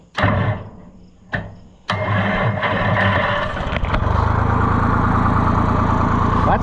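A Rhino 404 tractor's starter cranks in a few short bursts before the engine catches and settles into a loud, steady, close idle rumble.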